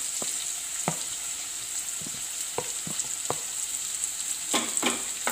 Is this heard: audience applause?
no